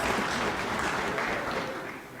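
Audience applause at a state-of-the-nation address, a steady wash of many hands clapping that swells at once and then tapers off slightly toward the end.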